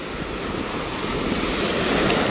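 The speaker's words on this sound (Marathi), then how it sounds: "कारण लाटा जाम जोरजोरात" Powerful sea waves pound Murud beach during a cyclone, a dense, roaring wash of surf mixed with wind buffeting the microphone, loud and continuous with no voices.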